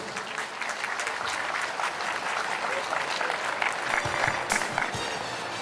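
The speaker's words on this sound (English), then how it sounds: "Let's give our guest of honor another round of applause." An audience at the launch of National Brisk Walking clubs gives the guest of honor a round of applause, dense steady clapping from many hands that carries evenly throughout.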